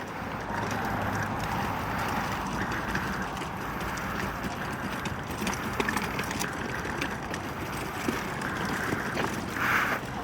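A steady, close rumble and rattle of a loaded camping wagon's small wheels rolling over rough ground as it is pulled, continuous throughout with occasional small knocks.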